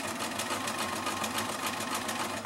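An electric sewing machine stitches fabric, joining a larger piece to a smaller one, in a steady rapid mechanical chatter that runs throughout at moderate volume, close by and without speech.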